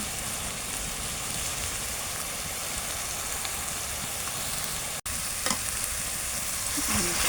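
Onion paste with turmeric and chilli paste frying and being stirred in oil for a chicken curry, a dense continuous sizzle that drops out for an instant before resuming with a few light scrapes.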